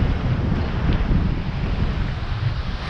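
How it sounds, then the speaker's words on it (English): Wind blows at the seashore on the Bristol Channel, a steady roaring rush buffeting the microphone, with possible surf underneath, loud and continuous throughout. "Oh, sorry about the wind."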